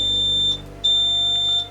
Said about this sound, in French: moi j'ai un bip bip qui gueule